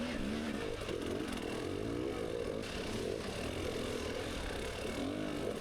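Dirt bike engine revving hard and continuously while stuck in a hole during a hard enduro qualifier race, a loud, near, sustained drone with fluctuating pitch and no pauses.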